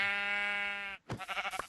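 A goat in a survival video game lets out one long, steady bleat, followed by a short burst of game sounds.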